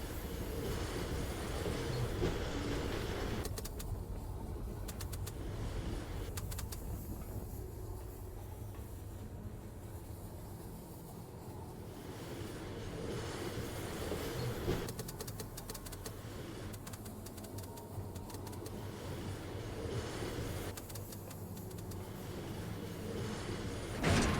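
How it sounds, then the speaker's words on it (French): Mechanical rumble and clatter as a rail wagon dumps raw sulfur into a machine in the video game Firmament, a steady loud grinding churn with rattling bursts lasting throughout, no talk. "Alors, notre wagon déverse son soufre brut dans la machine."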